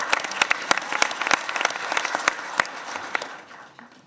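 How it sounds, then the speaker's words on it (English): Enthusiastic applause from a crowd at a city swearing-in ceremony in Charlotte, greeting the mayor: dense, steady clapping with sharp individual claps standing out, fading toward the end. "Give it up for the mayor."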